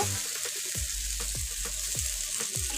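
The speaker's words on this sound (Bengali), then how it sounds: "এবার মশলাটা ফ্রাই করা হয়ে গেছে এবার আলু রেখেছিলাম কেটে আলুটাকে দিয়ে দেব" Spices fry in a pan as cut potatoes are added for a masoor dal and pui shak dish, a soft, steady sizzle marked by about six evenly spaced knocks from stirring.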